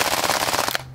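Homemade gel blaster firing on full auto, a rapid, loud, buzzing stream of shots close by that stops abruptly near the end, leaving a faint hum.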